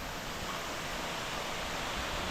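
A waterfall beside a mountain trail at Bangkar on the Everest Base Camp trek pours in a steady, even hiss of rushing water, faint and unbroken.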